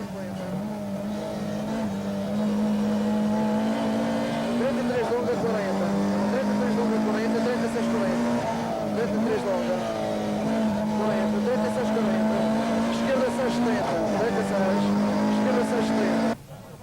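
A Toyota Corolla rally car at Rally Madeira 1990, heard from inside the cabin: a loud, steady engine drone that holds its pitch with brief dips between gears, while speech runs over it throughout.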